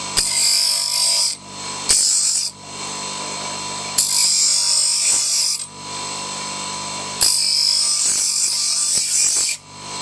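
A plastic motorcycle bar end mirror part being ground in a garage, heard as loud rasping grinding passes in four long strokes separated by brief pauses, close and without talk.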